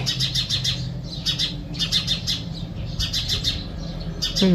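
Bird calls, including a striped bird, ring out in repeated bursts of high chirps and tweets over a steady low hum, with brief pauses between the clusters and a louder squawk at the very end.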